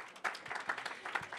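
Audience applause in a church gathering, a short burst of clapping from a crowd that starts abruptly and holds fairly steady at moderate loudness, with no talking over it.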